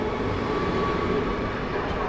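A snow-covered Griffin passenger train rolling through Warszawa Zachodnia station in winter, a loud, steady rumble of wheels and wagons with a faint tonal whine, continuous and close.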